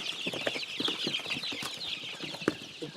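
Country chickens and roosters cluck and squawk close by in a busy, irregular chatter of short calls, fairly quiet overall with no talking.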